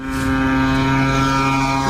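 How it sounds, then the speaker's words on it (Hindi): Military drones being launched toward Pakistan from Afghanistan. A loud, steady propeller engine drone with a strong humming whine holds at constant pitch throughout, close and continuous, with no talking. "ये इन लोगों के ड्रोन्स हैं जो लॉन्च किए जा रहे हैं टुवर्ड्स पाकिस्तान।"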